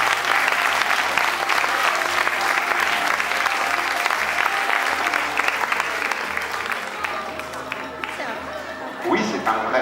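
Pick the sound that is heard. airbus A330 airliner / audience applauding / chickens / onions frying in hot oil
audience applauding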